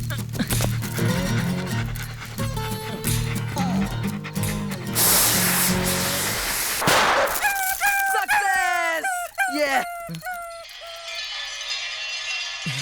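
A distressed dog yelps, whimpers and barks loudly in a dramatic film scene, with high, wavering cries clustered toward the end over a busy, noisy background.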